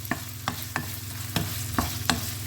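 Wild garlic flowers stir-fried with pork belly ham and chili in a pan: a loud steady sizzle with rhythmic scraping strokes of a spatula about every half second, close up, no talk.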